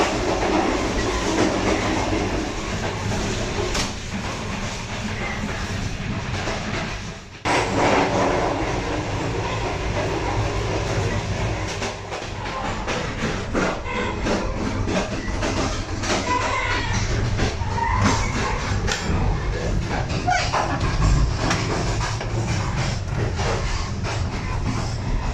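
A Green Line Express business-class train between Rawalpindi and Lahore rumbles along the rails with a loud, steady roar and rhythmic clickety-clack, briefly dipping once, heard from inside the carriage with faint voices now and then.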